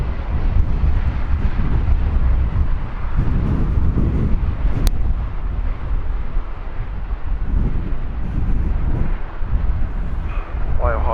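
An Alaska Airlines airplane at Heathrow Airport gives a steady, loud engine roar with wind buffeting, broad and sustained throughout, while voices talk over it at times.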